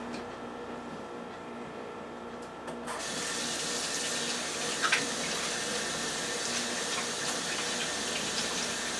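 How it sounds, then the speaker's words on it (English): Tap water starts running about three seconds in and flows steadily into a sink as hands are washed, a continuous close splashing hiss with a brief louder splash midway. "Let me wash my hands."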